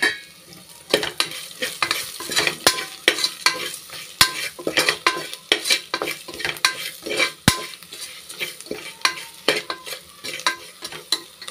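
Onions fry and sizzle in a pan with coriander, chili and turmeric powders while a spoon stirs them, steady scraping strokes over a continuous close sizzle, with no talking.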